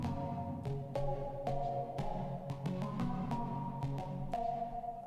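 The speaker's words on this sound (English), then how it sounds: "Sort of a pluck sound." Short plucked synth notes in a bouncy, irregular rhythm, each with a quick attack and a short tonal decay, playing a simple melodic pattern.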